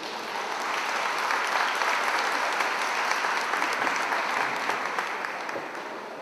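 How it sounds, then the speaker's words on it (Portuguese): Warm applause from the audience at a Rotary Club district peace forum, a full, sustained round of clapping that rises, holds steady for several seconds and tapers slightly at the end. "Receber com uma calorosa salva de palmas."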